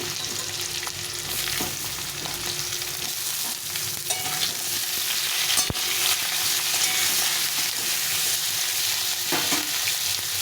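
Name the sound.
green banana slices frying and being stirred in oil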